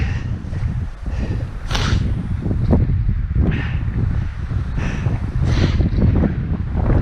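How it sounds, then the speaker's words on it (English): Strong wind gusts buffet the microphone during a climb on Mount Olympus, a loud, continuous low roar with surging bursts that never lets up. "The wind, when it blows really hard, it's extreme."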